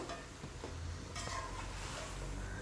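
Chicken malai handi with white pepper sautéing in a pot, a steady low sizzle running throughout with scraping stirring strokes and occasional clinks of a utensil against the pot, close and continuous.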